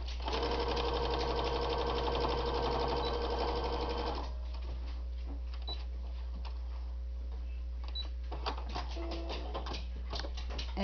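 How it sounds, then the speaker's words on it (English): A sewing machine runs steadily for about four seconds, stitching a fabric seam on a bowl cozy, then stops, leaving a quiet hum with light clicks and handling sounds close by. "we're going to flip it and we're going to sew on that seam line."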